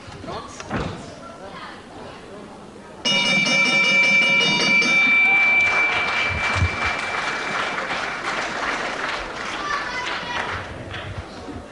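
Round bell at a wrestling match, a sharp ringing strike that cuts in and hangs over a loud cheering, applauding crowd, with a commentator talking throughout.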